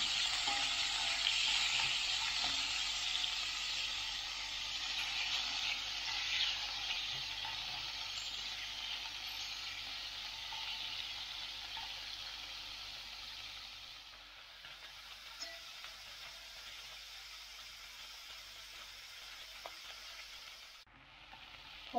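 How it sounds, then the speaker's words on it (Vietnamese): Chopped meat stir-frying in a hot pan, giving off a steady, dense sizzle with a faint hiss of steam that holds for the whole stretch and eases slightly near the end, with no one talking. "Thứ nhất mình xào vào cho thịt nó săn, thứ hai nó ra bớt cái mỡ này nè."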